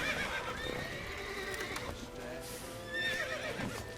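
A horse in The Witcher 3 video game whinnies loudly against hoof clip-clops and outdoor ambience, with a second neigh toward the end.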